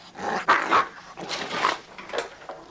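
A dog called Baron, playing rough with strangers in a pub, gives a series of close growls and short gruff barks in bursts.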